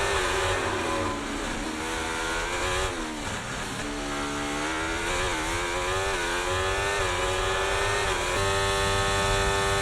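An F1 24 video game race car accelerates out of the pits after a stop, its engine whining loud and close in a steady climbing pitch, with a brief dip around the third second before pulling on strongly.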